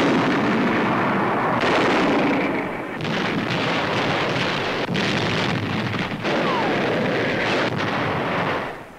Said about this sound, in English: the 5th United States Marine Division fires on Japanese gun emplacements studding the mountain.